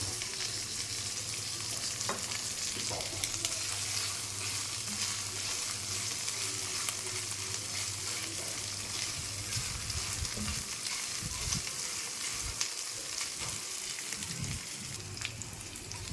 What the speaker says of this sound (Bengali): পেঁয়াজ রসুন আদা ভাজা ভাজা হয়ে গেছে